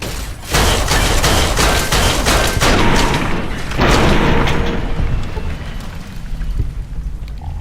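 Sustained gunfire in the Fallout video game series: a dense string of loud, close shots with booming impacts, tapering into a lingering rumble and fading echoes near the end.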